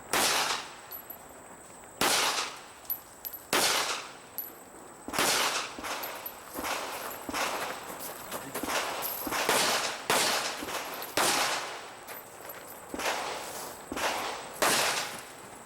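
Pistol shots ring out at an IDPA shooting match, a dozen or so sharp reports arriving singly and in quick pairs at an uneven pace, loud and close, with no talking.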